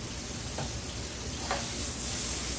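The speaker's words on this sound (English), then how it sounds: "And get a nice little sizzle in there" A steady, even sizzle of meat for pot roast frying in a hot pot fills the whole moment, with a faint clink or stir partway through and no voices.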